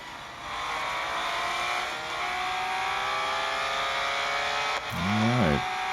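A 2019 Porsche 911 GT3 R race car howls through a racing video game, its engine a loud, steady high-revving drone whose pitch climbs gradually, with a brief warbling chirp near the end.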